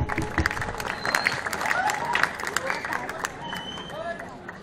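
An audience at a Balinese Calonarang performance at Puri Agung claps steadily, with the applause mixing into crowd murmur and scattered voices throughout.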